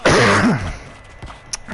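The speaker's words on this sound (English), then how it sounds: "I can't stop coughing." A man coughs and clears his throat once, close and sharp, during a live online NBA 2K Playgrounds 2 session, then it goes mostly quiet.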